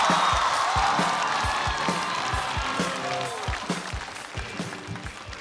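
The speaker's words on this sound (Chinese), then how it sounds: "掌声有请于博" A studio audience applauds and cheers to welcome a stand-up comedian onstage at a comedy competition show, steady crowd clapping over a rhythmic thumping music beat with a few whoops.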